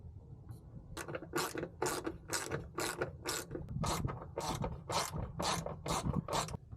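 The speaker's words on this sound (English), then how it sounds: "Now we're going to remove the three 10mm bolts securing the ECU to the wall." A ratchet wrench backing out 10mm bolts that hold the ECU of a Toyota MR2, a rapid run of about a dozen sharp metallic clicks in steady rhythm, close and clear with no speech.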